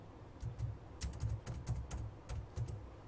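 Typing on a computer keyboard while entering the city name Kuala Lumpur, a quick close run of soft key clicks in uneven bursts, with no talking.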